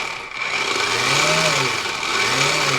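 A radio-controlled Honda Civic Type R model car with simulated VTEC engine sound revs at full throttle, a loud, steady electronic engine drone with a thin high whine and pitch swells rising and dipping twice.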